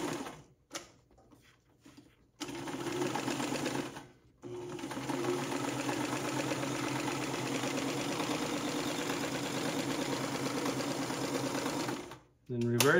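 A sewing machine stitches in reverse over car trunk upholstery, running in a steady, close mechanical whir for most of the span after a few short starts and stops.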